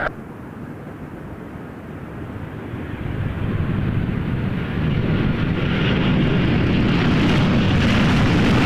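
A WestJet Boeing 737-700 from Vancouver comes in to land at Toronto Pearson airport, its jet engine roar building from a steady rumble to a loud, broad near rush that holds to the end.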